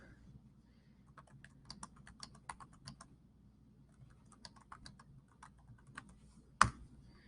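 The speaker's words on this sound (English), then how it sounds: "we're going to just type out" Typing on a computer keyboard while writing into an offline document: a steady run of light, close key clicks in uneven bursts, ending with one sharp louder keystroke near the end.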